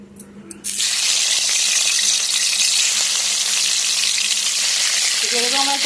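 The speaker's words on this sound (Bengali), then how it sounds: "চলো এবার চাল কুমড়াগুলো ভেজে নিই" Ash gourd sizzles loudly in hot oil after a short quiet start, a dense, steady crackling hiss that keeps going to the end.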